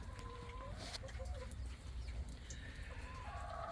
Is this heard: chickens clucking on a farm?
yes